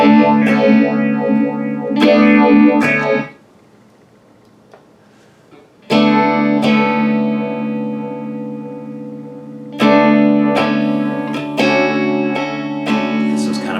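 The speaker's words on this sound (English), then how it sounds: "This one has more of that wow, wow, wow kind of effect." Distorted electric guitar chords ring out through an MXR Phase 95 phaser pedal, their tone sweeping with a swirling whoosh, broken by a few seconds of near silence between strums.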